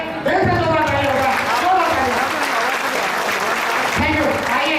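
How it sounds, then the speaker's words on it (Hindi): Audience at a business seminar clapping in a loud, sustained burst, heard close with a voice talking over it throughout. "चंद्रपाल जी मैडम के लिए दिल से जोरदार ताली होगा।"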